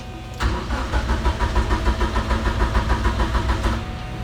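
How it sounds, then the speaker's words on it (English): A Chevrolet Corvette C2 Stingray engine cranks and fires, then settles into a loud, rough idle with a steady pulsing beat that lasts throughout, running rich and struggling to stay running. "The car is rough idling and doesn't want to stay on."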